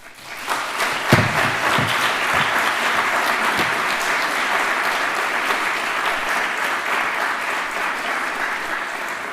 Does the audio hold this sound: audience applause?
yes